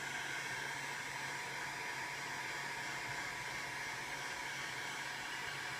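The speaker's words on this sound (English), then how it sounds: "fire up the heat gun. It's on the minimum setting, and now I'm just heating up those capacitors" A heat gun on its minimum setting blows a steady, even airflow hiss with a faint motor whine while warming capacitors on a Macintosh Plus board, continuous and unchanging throughout.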